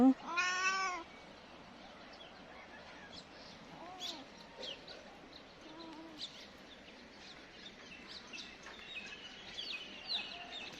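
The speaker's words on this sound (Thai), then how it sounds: "ทางอะไรเนี่ยร้องเสียงหลงเลยนะ หนาวเหรือเจ้าหนู น้องแมวเหมียว" A cat at a mountain campground on Doi Inthanon gives one loud, high meow at the start, followed by quieter cries over steady outdoor ambience with distant bird calls.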